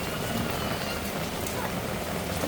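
Steady rain falls at an outdoor terrace bar at Walt Disney World, a dense even hiss of drops on surfaces that runs without a break and with no voices.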